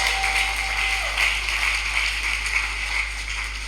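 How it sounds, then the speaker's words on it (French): Church congregation applauding during a combined Sunday service: a continuous, dense wash of clapping under a steady electrical hum, even and sustained throughout, with a brief tone at the start. "On applaudit le Seigneur puissamment pour sa gloire."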